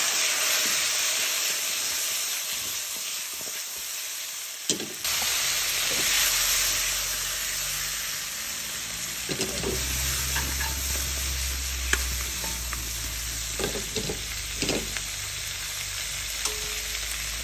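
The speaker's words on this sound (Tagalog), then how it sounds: "Yan ang perfect na smoke ribs gisado." Smoked ribs sautéing with soy sauce in a hot pan give a steady close sizzle and hiss, with scattered stirring scrapes and a brief louder clatter near the start before the frying settles.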